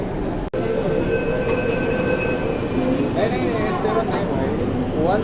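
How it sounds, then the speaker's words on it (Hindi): Mumbai Metro Line 7 Red Line train running, a loud steady rumble from inside the car with squealing wheel tones rising toward the end and a person talking over it. "ये रेड लाइन की ट्रेन है"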